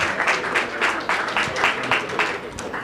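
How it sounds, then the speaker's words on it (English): Audience applause at an awards ceremony in New York City, a fairly steady patter of claps at moderate loudness, with a faint voice now and then beneath it. "let's give her a round of applause"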